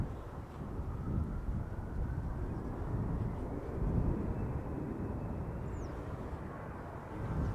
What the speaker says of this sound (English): Here comes SAS Flight 552, CRJ 900 going to Copenhagen